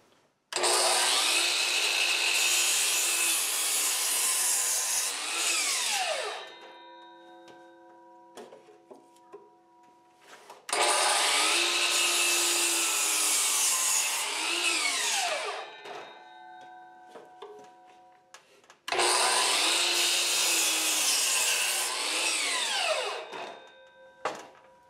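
Power saw cuts bevels into the ends of wooden skis for a chicken coop in three loud, sustained bursts of several seconds each, with quiet gaps of clattering and handling in between.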